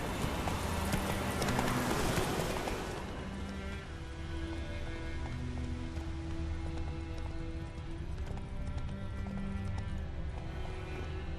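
A horse gallops in The Witcher 3, its steady, rhythmic clip-clop of hooves heard close throughout, with a louder burst of movement at the start before settling into an even pace; no one talks.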